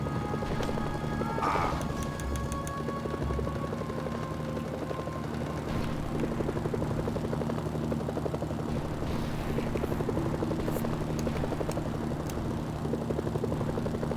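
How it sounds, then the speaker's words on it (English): Helicopters approach in the video game Mercenaries: Playground of Destruction, a steady loud rotor thrum with rhythmic chopping throughout, alongside sustained engine hum and some brief game effects. "Incoming helicopters. They'll tear through the tanks."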